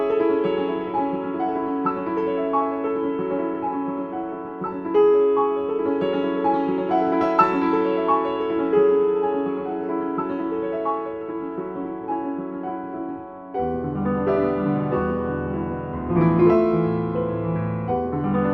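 Solo grand piano with its lid fully closed, recorded with supercardioid microphones, playing melodic passages with a muted, boxed-in tone, steady and moderately loud, with a brief break before a fuller phrase resumes.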